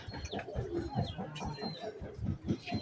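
Pigeons being caught and handled in a rooftop loft give low, repeated cooing calls in a steady rhythm, fairly faint and close, with little talk.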